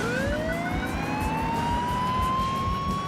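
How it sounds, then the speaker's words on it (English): Police sirens wail steadily in Burnout 2: Point of Impact, rising pitch sweeps layered over a constant roar of racing car engines, loud and continuous with no talking. "Really didn't want to hear the sirens for long, but seems that I will."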